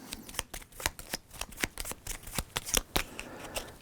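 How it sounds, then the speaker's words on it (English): Game cards for the Sine Tempore board game shuffled by hand, a rapid run of crisp riffling snaps and slaps repeating steadily, close and clear with no talking. "So we'll shuffle those up."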